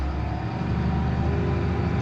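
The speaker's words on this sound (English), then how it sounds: "We'll park the service truck" Farm service truck engine running close by at a steady idle-to-low-speed drone with a low rumbling throb, no voices.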